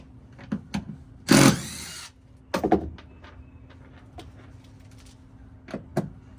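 A tool works screws out of a van garage wall panel in short bursts, with a louder whirring spell and scattered clicks and knocks against a quiet background.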